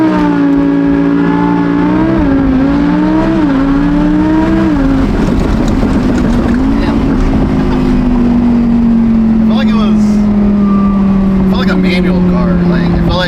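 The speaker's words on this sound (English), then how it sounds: "put it into sport, foot all the way down on the brake, and then smash the gas and then let go" A supercharged Audi R8 in sport mode launches at full throttle from a brake-held start, engine roaring and rising through the revs before dropping into a long, steady pull, very loud and close with a whine on top.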